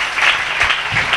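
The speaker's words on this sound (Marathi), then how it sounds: "सर्वांनी जोरात टाळ्या वाजवून प्रभू येशूला धन्यवाद द्या" A church congregation at a prayer gathering in Naigaon bursts into loud, sustained applause, a dense wash of clapping with no break from start to finish.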